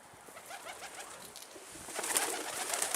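Pigeons coo close by on a rooftop, soft repeated throaty calls, with a rising rustle of wings and movement toward the end.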